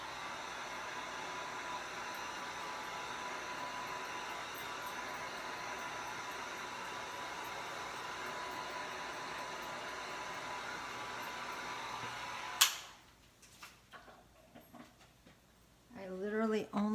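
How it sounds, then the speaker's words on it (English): A dryer blows a steady, loud rushing hiss over wet paint for about twelve seconds, then cuts off abruptly, leaving quiet handling noises and a brief faint voice near the end. "I'm going to dry it just for a sec."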